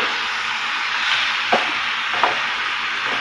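A spoon scrapes and stirs adobo sa gata in a frying pan over a continuous sizzle, with two distinct stirring scrapes standing out near the middle and no talking.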